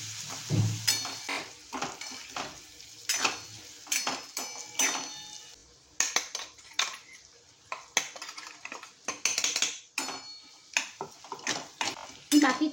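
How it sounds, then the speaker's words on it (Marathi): Amla gooseberry pickle with oil and masala cooking in a pan, stirred with a metal spoon: repeated close clinks and scrapes against the pan in an irregular rhythm, over a faint sizzle, no talking. "आपल्याला हे 2 ते 3 मिनिटं शिजवू द्यायचं आहे, कारण आपण आवळे ऑलरेडी आपण वाफवून घेतलेले आहे."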